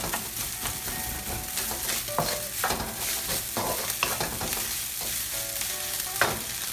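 Sticky sushi rice being broken up and stir-fried in a pan, with a steady sizzle and repeated scraping, tapping strokes of a utensil against the pan throughout, close and fairly loud, no talk.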